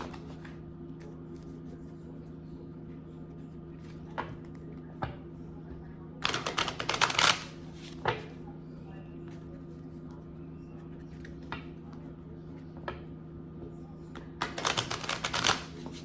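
Tarot cards shuffled during a reading, two brief bursts of riffling over a steady low electrical hum, with soft taps and clicks scattered between them.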